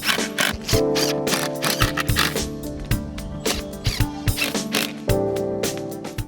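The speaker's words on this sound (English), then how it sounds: "and screw into position." A drill drives screws to fix a lift-and-slide door head track to its frame, giving loud close whirring bursts with ratcheting clicks and short pauses between them.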